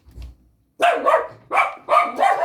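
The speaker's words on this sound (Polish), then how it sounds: "a to jest właśnie mój super piesek, y, który właśnie oszczekuje mojego tatę." A small dog barks at someone in short bursts, four loud, close yaps in two quick pairs after a brief quiet start.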